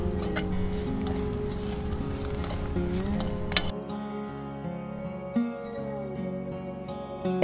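Pink oyster mushrooms with thyme and basil fry in a thick pan, making a loud, busy sizzle. Partway through, the sizzle drops abruptly to a quieter crackle, with occasional stirring clinks.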